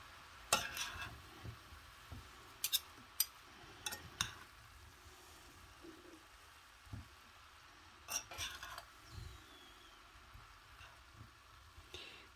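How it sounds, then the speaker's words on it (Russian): Burdock stalks, nettle and dandelion leaves are tossed together in a bowl for a salad, with irregular soft clinks and scrapes of utensils at close range and quieter rustling between them. "Нужно это перемешать."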